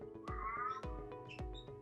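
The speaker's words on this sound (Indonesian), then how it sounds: "Maaf ya kalau ada suara kucing." A pet cat meows several times in a row, close and clear, each call a short rising-and-falling cry, with soft thuds between them in a quiet indoor room.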